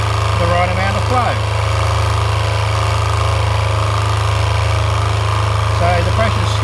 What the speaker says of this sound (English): You can hear a bit of a change in the motor. It's sort of coming under load a little bit.